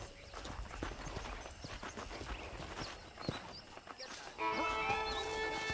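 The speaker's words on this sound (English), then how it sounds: "let's see if we can't wrangle some horses" Horses in Red Dead Redemption, scattered clip-clop hoofbeats and faint snorts over open-range ambience, with a steadier musical drone rising in the last second or so.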